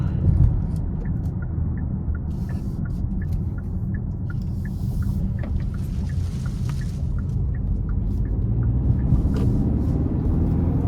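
A 2023 Hyundai Santa Fe Calligraphy with the 2.5-liter turbo engine drives along, its steady low road and engine rumble continuous and close throughout, with faint ticking above.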